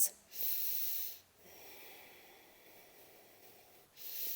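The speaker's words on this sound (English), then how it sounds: "Taking another 2 breaths." Deep, audible breathing during a yoga balancing pose: slow, airy inhales and exhales drawn through the nose, close up and quiet, with long hissing breaths in a steady rhythm.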